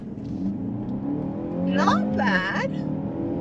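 A 2023 BMW X1 xDrive28i compact SUV with a turbocharged engine pulls away hard in sport mode, its engine note rising steadily, with a couple of sharp revving sweeps near the end. A voice speaks briefly over it.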